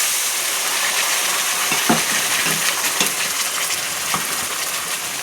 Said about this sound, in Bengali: এখন সুন্দর করে মশলাটা আমি কষিয়ে নেব